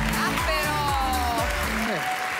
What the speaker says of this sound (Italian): Un applauso a Trevica.